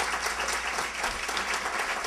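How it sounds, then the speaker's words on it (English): An audience at a leadership alumni awards event claps steadily, a dense and even wash of applause that keeps up without a break. "please give them a round of applause"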